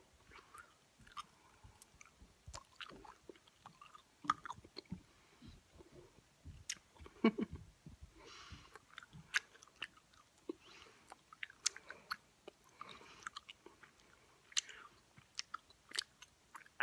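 Gum is chewed fast and close up, giving a long run of wet clicks, smacks and squishes in a busy, uneven rhythm that stays intimate and quiet with no talking.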